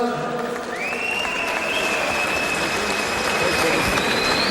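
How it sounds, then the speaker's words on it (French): Crowd at a French championship boxing match applauding both fighters after the eighth round, a dense sustained roar of clapping with a high whistle-like tone running through it, loud and close. "vos applaudissements aux deux hommes"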